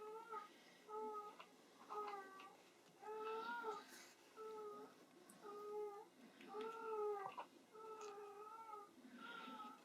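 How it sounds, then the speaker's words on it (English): Several cats meow and yowl loudly in repeated drawn-out cries, close by in a home, with brief pauses between calls and faint background noise. "I have really obnoxious cats, so you probably hear them screaming"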